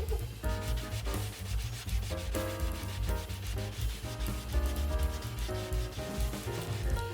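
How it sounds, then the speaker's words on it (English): Edges of an MDF board being sanded and filed for a cat tower build, a steady, close rasping rub in quick repeated strokes that continues throughout with no voices. "I filed and sanded the edges to remove any jaggedness."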